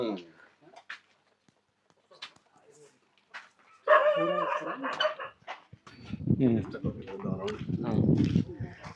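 Several tethered dogs bark at a farm field site, a few sharp barks near the middle and end, mixed with people talking outdoors.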